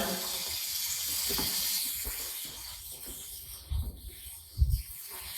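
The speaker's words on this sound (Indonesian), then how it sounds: "Kok ada suara air?" Faint steady hiss of running water, like a tap left on, inside an abandoned factory, with a few soft scuffing thumps toward the end and no talking.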